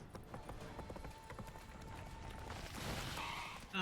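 Roach the horse gallops in The Witcher 3, hooves clip-clopping in a quick, steady rhythm at moderate volume over a soft game backdrop.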